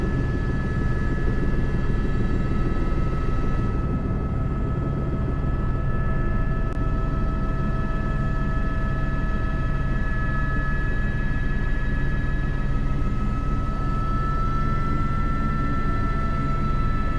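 H125 AS350 helicopter carrying heavy big bags on a long-line sling load, a loud, steady close rotor and turbine drone that persists without a break.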